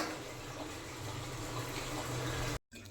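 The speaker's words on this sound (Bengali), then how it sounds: "এই জল ভরে নিই জল ভরে এটা মিক্স করে খাবো" Water pours steadily into a container, a continuous broadband rush at close range that runs unbroken for most of the span, then cuts off abruptly near the end before a brief resumption.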